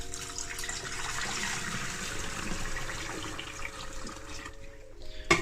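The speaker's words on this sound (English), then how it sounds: "600 millilitres, just pour that in there" Around 600 millilitres of water pours into a large container for a DIY aquarium CO2 system, a steady splashing rush that runs continuously for several seconds before tapering off, with a brief clatter at the end.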